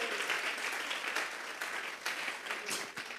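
Church congregation applauding together, a steady wash of clapping with a few louder surges, heard at moderate distance and fairly faint.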